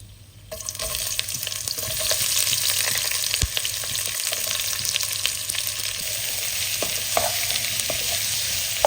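Onions sizzling in a hot pan, a steady bright crackle that starts abruptly and continues evenly, with occasional sharper pops and light clinks from the pan, no voices.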